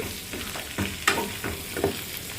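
Chicken liver frying in oil over a low flame, a soft close sizzle with a few brief scraping stirs and pops, no talking.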